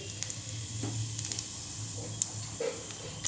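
Whole cloves, cardamom, cinnamon and white cumin frying in hot oil, a steady, soft, close sizzle and hiss with a few faint clicks and pops throughout.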